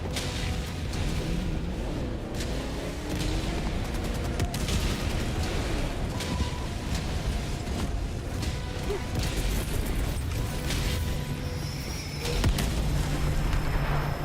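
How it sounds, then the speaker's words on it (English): Enemy artillery fire in a video game: a dense, continuous barrage of booms and crashing impacts rumbles steadily throughout, with scattered sharper blasts layered over the din. "Warning, you are in range of enemy artillery."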